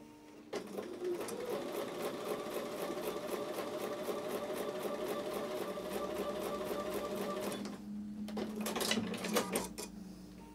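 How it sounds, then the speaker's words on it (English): A sewing machine stitches quilt blocks together in one steady, continuous run of rapid mechanical whirring that stops near the end, followed by a few brief clicks and rattles. "So I'm going to go back over to the sewing machine and sew those together."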